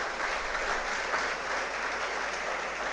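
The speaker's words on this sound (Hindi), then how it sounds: "एक बार जोरदार तालियां प्रिंस परिवार में आपके आगमन पर।" Steady, loud applause from a seminar audience welcoming guests, dense clapping sustained without a break and no talk over it.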